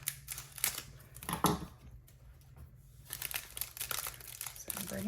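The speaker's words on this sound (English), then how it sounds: "I'm going to cut that sealing part off." Plastic packaging crinkles and rustles as scissors cut off its sealed strip while a Halloween treat box is being made, a close series of sharp snips and crackles with short quiet gaps.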